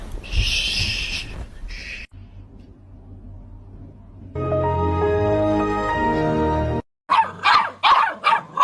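A dog barks in a funny pet compilation, with a run of sharp barks near the end after a stretch of mixed sounds, including a sustained tonal passage.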